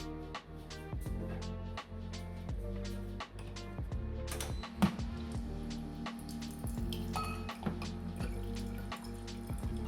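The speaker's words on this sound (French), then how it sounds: "Et je vais remplir un autre verre d'eau." Water from a Jimmy M9 Pro filter machine pours into a glass in a steady close trickle with small drips and splashes throughout, with no talking.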